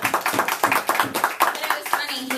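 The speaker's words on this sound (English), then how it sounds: "And let's give a round of applause to Jennifer." Applause for Jennifer from an audience, rapid repeated hand claps in a steady patter with voices talking underneath, close and moderately loud.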